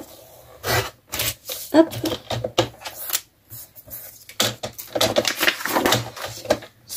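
Paper being cut for a sketchbook page: short crisp snips and rustles in uneven bursts, close and fairly quiet, mixed with soft speech.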